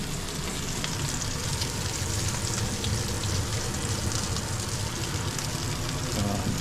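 Bacon sizzles on a hot griddle while smash burgers cook, a steady dense crackle and hiss that carries on evenly throughout.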